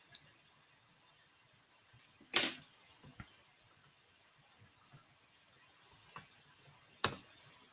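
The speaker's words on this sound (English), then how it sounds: "I'll have to type it, I guess." A few sparse keystrokes on a computer keyboard: scattered soft clicks with two louder taps, separated by long stretches of near silence.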